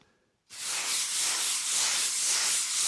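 Continuous broadband rasping hiss that starts abruptly and holds steady, a hand rubbing across a textured wall surface in a cabin, up close.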